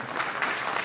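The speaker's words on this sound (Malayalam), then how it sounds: "ഗംഭീര കയ്യടി കൊടുക്കണം." Audience applause at a Malikappuram film event, a steady dense wash of clapping from a crowd, fairly loud and continuous throughout the short burst.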